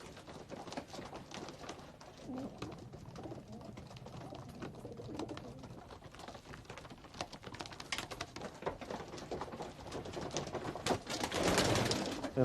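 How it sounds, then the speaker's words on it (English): Racing pigeons cooing softly in a loft, low murmuring coos over light pattering and fluttering, fairly faint and continuous throughout. "It's called a racing pigeon because it's taken in a lorry to a race point."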